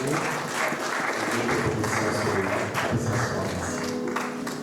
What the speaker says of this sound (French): Est-ce qu'on va acclamer la parole de Dieu?